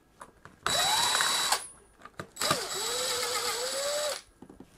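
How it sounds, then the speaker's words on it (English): Power drill or driver whining as it backs screws out of the side of a Noblechairs Legend gaming chair upright, in two sustained bursts with pitch sweeps, separated by brief clicks and handling noise, close and loud. "they've actually attached the screws in the side of the upright. So we're going to need to remove those"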